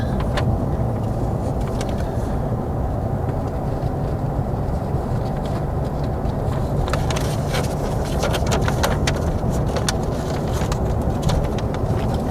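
A car drives the loop road through the White Sands dunes in New Mexico, its rumble and road noise steady and loud over a bumpy surface, heard from inside the vehicle without talk.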